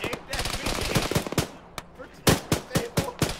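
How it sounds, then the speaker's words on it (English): Heavy machine gun fire in the ShackTac military game, dense rapid bursts up close, then a pause and a few loud separate shots, with no talk over it. "There's an emplaced heavy machine gun up that road."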